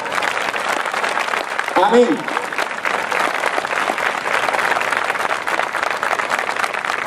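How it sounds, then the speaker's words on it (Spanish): A church congregation applauds continuously for several seconds, a dense steady wash of clapping, with a voice briefly calling out over it. "Un aplauso para Dios."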